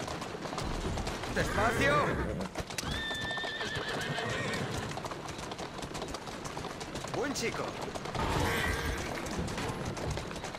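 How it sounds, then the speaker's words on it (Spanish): Horse in Assassin's Creed Syndicate whinnies loudly twice, early and late, over steady clip-clop trotting hooves, while someone speaks to the animal in Spanish between the calls. "¡Tienes un buen caballo!"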